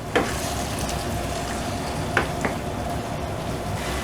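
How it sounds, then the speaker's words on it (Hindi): Tomatoes and masala cook down with chicken for a curry in a pan, giving a steady, close sizzle broken by a few sharp spoon clicks, with no one talking. "अभी हम इसको टमाटो सॉफ्ट होने तक इसको पकाएंगे"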